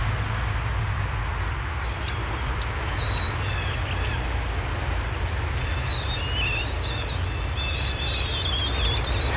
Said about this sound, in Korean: 정원을 보면 새소리가 들리더라고요.